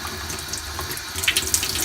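Water runs from a tap through a clip-on shower head attachment, a steady hissing spray that splatters brighter toward the end, close and loud with no voices.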